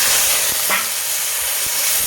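Sliced okra (bhindi) hits hot oil in a kadai, giving a broad, steady sizzle and hiss that fills the whole clip at close range, with a few faint knocks.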